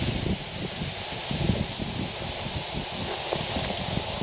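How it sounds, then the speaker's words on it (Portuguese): Wind blowing steadily outdoors in Ogaki, Japan, near a cascade, a broad rushing noise with rustling and gusty buffeting against the microphone. "E tá ventando ainda."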